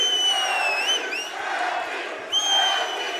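A loud arena crowd at a Shamrock FC mixed martial arts fight roars and cheers continuously, with whistles and shouts rising over the sustained din.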